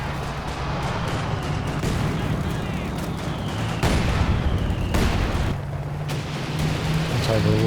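Heavy mortar strike in Company of Heroes 2 on the Port of Hamburg map, with a dense rumble of battle and several sharp, loud impact blasts landing over a constant din of fire.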